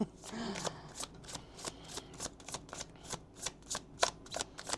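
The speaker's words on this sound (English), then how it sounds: "I've been having such a hard time freaking shuffling this damn deck" A stiff tarot deck being shuffled by hand, with crisp riffling bursts repeating in a steady rhythm close by, over a faint background hum.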